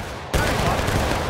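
Musket volley from Civil War reenactors: a sudden loud blast of massed fire followed by a sustained rumbling roar and crackle.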